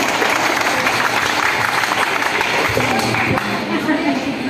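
Applause from the audience at a Jeevika Didi meeting in Katihar district, welcoming Chanda Didi: dense, steady clapping from a crowd throughout, with some voices mixed in.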